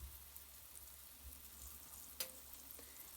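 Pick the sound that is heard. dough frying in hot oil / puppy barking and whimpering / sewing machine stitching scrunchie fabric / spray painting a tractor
dough frying in hot oil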